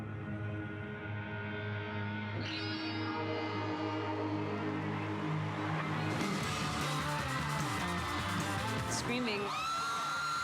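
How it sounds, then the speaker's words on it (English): Crowd of fans screaming and whooping at a Twilight 10th anniversary panel at New York Comic Con 2018, a sustained loud roar that swells sharply midway, mixed with music and voices. "If we're judging by the screaming, it was wonderful."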